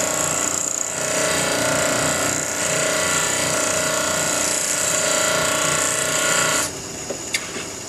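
A high-speed steel lathe threading tool is ground on a grinder, giving a loud, steady, close abrasive whine for about seven seconds before it stops abruptly, leaving a faint tick.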